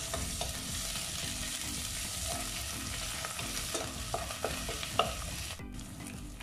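Onions frying with ginger garlic paste in a pan for a beef and turnip curry, stirred steadily: a continuous close sizzle with repeated spatula scrapes and one louder clank, no speech.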